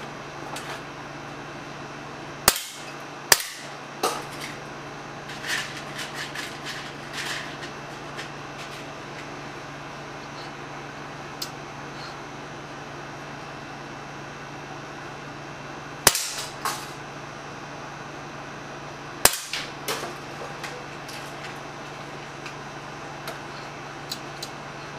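Semi-automatic .177 BB air cannon firing at 10-meter targets outdoors, a handful of sharp isolated cracks spaced seconds apart with faint ticks and low background hum between shots.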